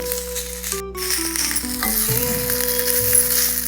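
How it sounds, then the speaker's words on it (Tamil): Mango ginger sautés in a pan with a steady soft sizzle and occasional stirring scrapes, heard close and alone against faint steady tones in the background. "கொஞ்சம் ஒரு ரெண்டு செகண்டு வர வதக்கினா போதும்"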